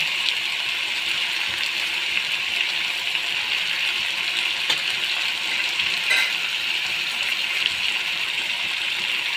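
Potatoes fry in a pan with turmeric and chili powder, a steady, close, even sizzle that holds throughout with a few faint stirring scrapes and no talking.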